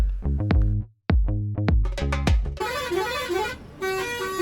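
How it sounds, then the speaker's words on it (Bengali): A bus driver sounds a distinctive horn while driving through dense fog toward Kolaghat: several loud, close, sharp honks, then a longer musical horn melody with rising and falling tones. "ড্রাইভার দাদা তার ইউনিক হর্ন বাজিয়ে কিছুটা এন্টারটেনমেন্টও করলেন।"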